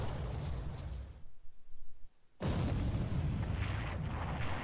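In the War in the Pacific naval wargame, a torpedo strikes a destroyer with a sustained, roaring explosion rumble that briefly cuts out and then bursts back in loud and dense, with no voice over it.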